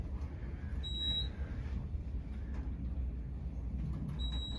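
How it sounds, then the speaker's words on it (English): Two short high-pitched electronic beeps from the hatch latch of a gated Otis service elevator in Chicago sound a few seconds apart over a low mechanical hum. "The hatch latch is beeping."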